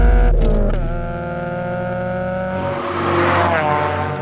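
A Toyota AE86 Hachiroku engine runs steadily with a tonal drone, then revs up and rises in pitch toward the end, close and clear with no voices.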